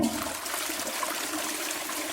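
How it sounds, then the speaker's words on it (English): A toilet flushes in a bathroom, a steady rushing wash of water throughout with no speech. "make sure to flush the toilet while using the funnel"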